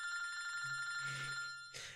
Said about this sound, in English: and your phone rings.